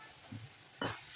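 Pineapple sheera with sugar is stirred in a pan, giving a soft sizzle with a light scrape of the spoon and then a louder stirring swish near the end, all very brief and with no voices.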